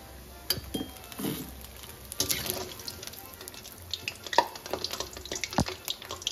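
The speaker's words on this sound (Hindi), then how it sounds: "ये जो है हमारा नॉर्मल है, ना ठंडा है ना गर्म है, जो हमारे यहाँ टैप वाटर है।" Room-temperature tap water runs from a kitchen faucet into a sink, a quiet, uneven splash broken by several sharp clinks of glass and dishes.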